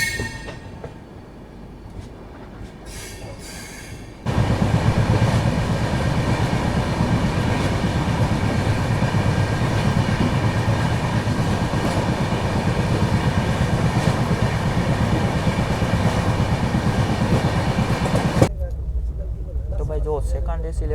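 A train runs along the seaside in Saurashtra near Rajkot, its loud, steady rumble and rail clatter cutting in abruptly after a few quieter seconds and holding close before dropping away near the end.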